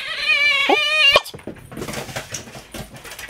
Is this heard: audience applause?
no